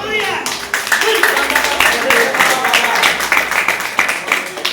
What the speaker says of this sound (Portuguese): É uma salva de palmas bem forte.